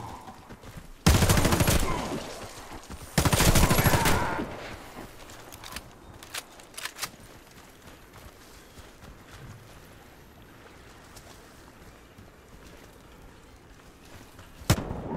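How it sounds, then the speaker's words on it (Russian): Grenade blast and gunfire in the Warface shooter: two loud, broad bursts early on, then scattered lighter shots and a sharp crack near the end over a low battle rumble. "Кидаю гранату!"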